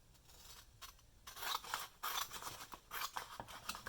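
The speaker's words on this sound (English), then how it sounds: "cut in the opposite direction on this one" Scissors cutting paper for an envelope, close and quiet, a series of crisp rasping snips in irregular bursts with short pauses between.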